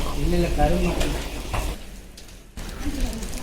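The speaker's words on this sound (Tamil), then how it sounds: "கொதித்ததுக்கப்புறம் அப்படியே அரை மணி நேரம் அப்படியே கிண்டிகிட்டே இருப்பீங்க கீழே அடி பிடிக்காமல்" Sugarcane juice boiling down for jaggery on a farm, stirred continuously so it won't catch on the bottom, giving a steady sizzling, bubbling hiss with scraping stir sounds and voices talking over it.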